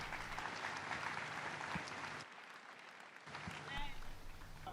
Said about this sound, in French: Applaudissons pour Jésus une fois de plus.